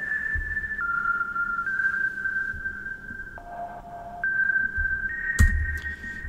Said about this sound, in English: The main sound is coming from the sub, so this sine wave, which is almost like this bell effect.